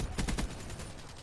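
Rapid gunfire in a shooter video game from a Razorback or Kuda weapon, a dense burst of loud, close shots in the first half that eases into a lower, steadier rattle with no talking.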